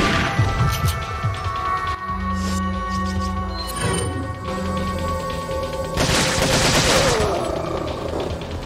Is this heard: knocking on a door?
no